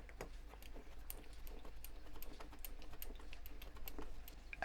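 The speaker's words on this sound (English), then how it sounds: "So now I can tighten the screw here." Small, faint clicks and ticks of a screw being tightened on a Ferrari F1-2000 scale model, quick irregular taps close up in a quiet room.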